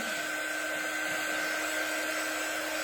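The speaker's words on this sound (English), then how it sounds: "So I'm going to just use my dryer" Close by, a hair dryer blows at a steady, loud pitch without a break over pieces of a paper heart garland that are coated in paste. No one speaks.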